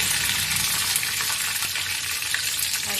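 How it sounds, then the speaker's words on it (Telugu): Mustard seeds and curry leaves sizzle in hot frying oil in a pan, a dense continuous crackle that stays fairly loud and even throughout, with no talking. "ఆవాలన్నీ చిటిపట్లు ఆడుతున్నాయి. సో కరివేపాకు వేసేస్తాను."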